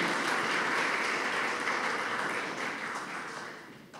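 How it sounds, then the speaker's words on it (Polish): Sustained applause from the audience at a school year-end ceremony in Starachowice, a dense steady clatter of clapping that holds strong before slowly thinning toward the end. "gorące brawa"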